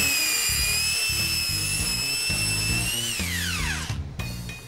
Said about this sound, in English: The small bench sander is a perfect addition to our workshop.